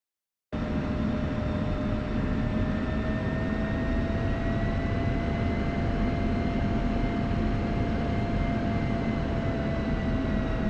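An F-16C jet in a DCS flight sim taxiing toward the runway, its engine giving off a steady, loud whine and roar with rising tonal pitches, continuous and alone from just after the start.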